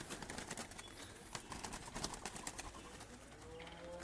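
Turtle doves cooing near a bird trap outdoors, soft distant coos over a hissy, noisy background for a few seconds.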